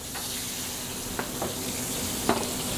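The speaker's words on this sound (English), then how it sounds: "It's large Dover sole. Getting in the oil, and we're gonna give it a couple minutes on each side." Large Dover sole frying in oil in a home kitchen, giving a steady low sizzle throughout with a few brief louder crackles and pops.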